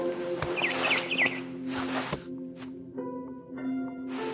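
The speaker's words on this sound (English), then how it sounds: "Then I heard chirping outside my window. It was a barn swallow going back to her nest." A barn swallow chirps in short, bright, warbling bursts early on, fairly close, over a steady ambient hum and faint game sounds in What Remains of Edith Finch.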